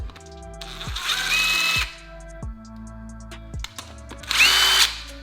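Power drill boring out a damaged threaded hole on a Mitsubishi Lancer Evo X, several close, loud whirring bursts that rev up and stop, the first long, then short blips, then another strong burst.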